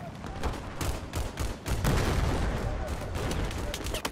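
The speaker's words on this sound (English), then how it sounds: "Alright, now I got a sniper on me. Bullets are whizzing right by." Sniper rounds and gunfire crack through a Battlefield 4 multiplayer match on PS4, dense overlapping shots and booms running steadily with a sharp burst near the middle, with faint voice chatter mixed in.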